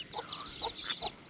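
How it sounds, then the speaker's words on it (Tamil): Chickens and chicks clucking in a rural village setting in Sri Lanka, a few short soft clucks and peeps repeating at a moderate distance with no voices over them. "கோழி குஞ்சுகள் இப்படி எங்கட ஊரில் எல்லாம் பார்த்து கனகாலம் ஆகுது"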